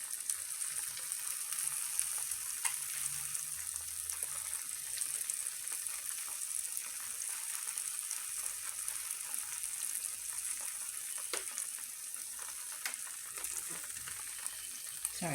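Steak sizzles and fries steadily in a pan for a steak and cheese omelet, a continuous close hiss with faint occasional clicks.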